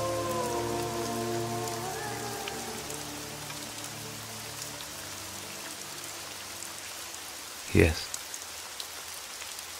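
Steady rain patters on a surface throughout, with soft music underneath and a brief louder thump near the end; one short spoken word.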